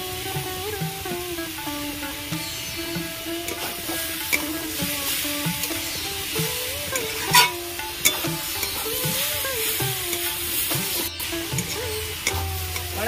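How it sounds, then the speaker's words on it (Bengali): Grass pea (khesari) greens stir-fry in a pan with sugar, a continuous close sizzle broken by spatula scrapes and stirring clatter, with a faint tonal background beneath. "কড়াই শাক ভাজা আমার একদম রেডি"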